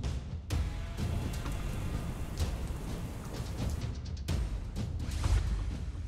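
Heavy rain pours steadily during monsoon floods in northeast India, a dense hiss of rainfall on surfaces with a few sharper gusts and splashes, heard alone and fairly close.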